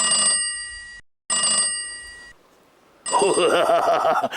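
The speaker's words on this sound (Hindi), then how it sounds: "कोकाफ से मेरी साली का फोन आ रहा है" A telephone rings in two bright electronic bursts with a short gap between them, followed by someone talking.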